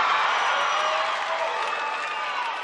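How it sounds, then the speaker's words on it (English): A wrestling crowd at the Tulsa Convention Center reacts in a sustained, loud swell of oohs and cheers during a 1986 UWF match, steady throughout and fading slightly at the end. "And the crowd oohing and eyeing here in the Tulsa Convention Center."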